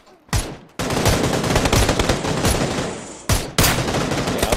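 Automatic gunfire in a firefight, loud close bursts of rapid shots, a short burst at first, then a long sustained stretch of fire broken by a brief pause before shooting resumes.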